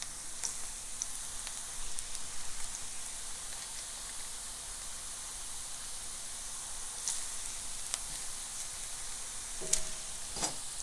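Plantain tostones in their second fry in hot oil give a steady, close sizzling hiss throughout, with a few faint clicks and a brief utensil clink near the end.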